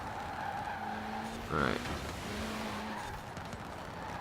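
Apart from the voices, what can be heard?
car tires squealing while drifting in Forza Horizon 4 video game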